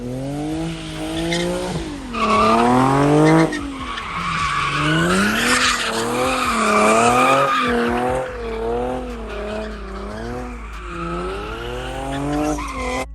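A car slides with its tyres skidding, producing a loud, sustained squeal whose pitch wavers up and down over a revving engine, close and continuous for several seconds without talk.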